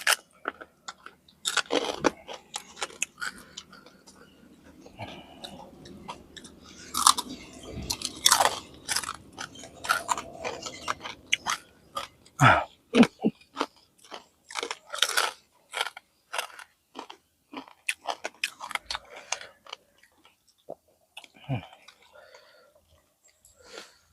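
Someone eats spicy squid papaya salad with crispy pork crackling up close, giving loud, sharp crunches and wet chewing in irregular bursts, with quiet murmured speech at times.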